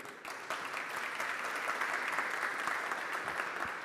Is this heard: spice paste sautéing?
no